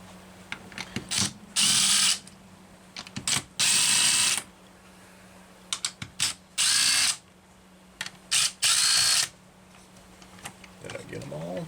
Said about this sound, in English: we're going to get the starter cover off